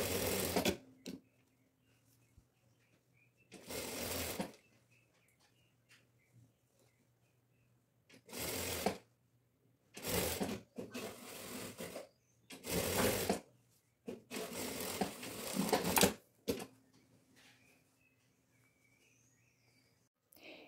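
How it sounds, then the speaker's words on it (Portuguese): An overlock sewing machine stitches elastic onto dress sleeves in several loud bursts of rapid whirring, separated by quiet pauses, close up with no talking. "Nós costuramos ele todinho lá na máquina overlock."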